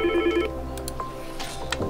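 An elevator emergency call rings at a dispatch center as a steady telephone-style tone with electronic beeps over a constant hum, with a few soft clicks.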